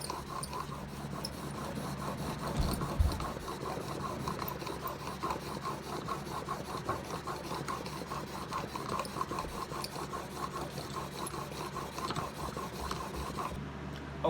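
A steel chisel is rubbed back and forth over a cheap sharpening stone, giving a continuous rasping scrape with a steady stroking rhythm, close up and without talk.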